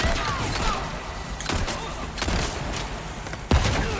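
Gunfire in the Resident Evil 4 Remake video game, several sharp shots scattered over a dense noisy backdrop of combat and background sound, with a louder blast near the end.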